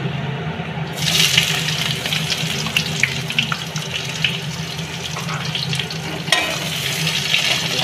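Chopped onion frying in hot oil with nigella seeds, bay leaves and dried chilli, a steady broadband sizzle with faint clinks and stirring, close and continuous with no voices.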